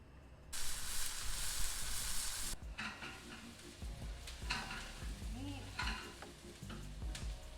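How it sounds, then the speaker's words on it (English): Onions, mushrooms and garlic sauté in a pan with a steady sizzle and hiss for a couple of seconds. Quieter frying then follows with scattered stirring scrapes and faint clinks. "The onions in first, followed by mushrooms, and then some garlic. Saute away."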